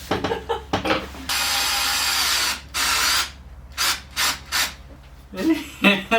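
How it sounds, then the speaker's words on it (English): An electric screwdriver whirs in a long steady burst, then several short on-off pulses follow, close and loud, with faint voices in between. "it's an electric screwdriver. It's different than a drill."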